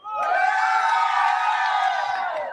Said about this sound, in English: It is an energetic crowd.